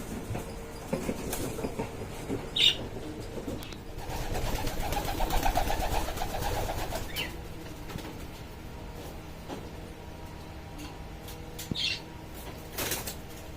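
Homer racer pigeons return to a loft on a balcony: faint cooing and a few short wing flaps stand out over a steady low background hum.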